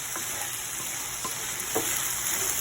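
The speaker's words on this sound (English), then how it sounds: "So about 2 to 3 minutes, and you just continuously stir as you're doing it." Risotto rice cooking in white wine sizzles steadily in a pan while a spoon stirs it with a few soft, scattered scrapes. The sound is close and continuous, and nobody speaks.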